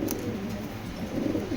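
Racing pigeons, a pair of top-quality Maxi birds, give soft low cooing in a brief, faint burst, close by and without speech.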